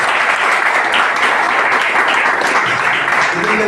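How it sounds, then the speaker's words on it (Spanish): Sustained applause from an audience at a mechanics' training talk, loud, dense and steady clapping throughout with no pause. "Aplauso al señor Alexis"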